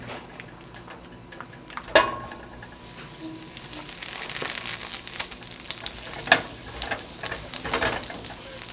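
Half a stick of butter melts into olive oil in a pan with a soft, rising sizzle. Two sharp knocks sound as it is added and stirred, and the sizzle grows louder over time.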